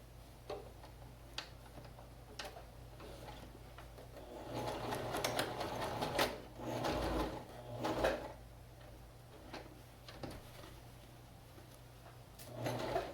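A sewing machine stitches fabric face masks with wire sewn into the edge, running in intermittent bursts of whirring with small clicks and handling taps between runs, close by and fairly quiet, with no talk.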